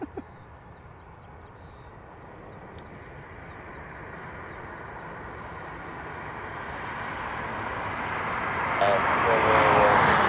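An airliner at Dublin Airport during single-runway operations, its engine roar building steadily from a distant rumble to a loud, close rush over about ten seconds.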